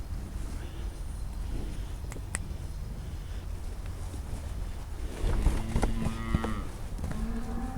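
A black beef cow on a farm gives several drawn-out moos in the later part, heard through steady wind noise and outdoor rumble.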